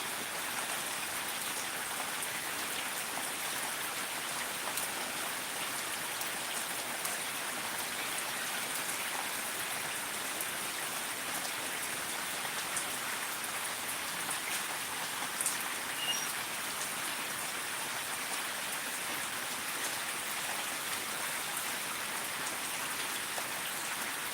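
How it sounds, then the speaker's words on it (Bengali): A sustained downpour drums hard and evenly outside a waterlogged home, a thick close wash of rain that keeps going without letting up. "প্রচণ্ড বৃষ্টি"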